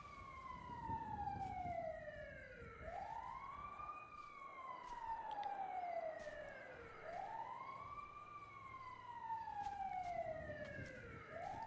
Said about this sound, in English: It sounds like an ambulance trying to get somewhere.